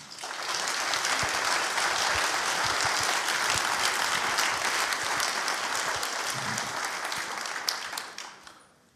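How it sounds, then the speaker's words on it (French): A seated audience at a talk applauds warmly, a sustained dense clapping that swells and then tapers off near the end. "Bravo et merci pour vos applaudissements."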